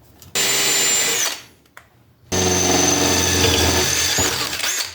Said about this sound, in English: we'll drill that out and then start lining them up